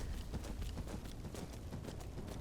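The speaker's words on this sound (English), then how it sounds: "I'm on a horse." Horse hooves clopping steadily while riding in Skyrim, a fast, even run of thuds over a constant low rumble, close and moderately loud with no voices.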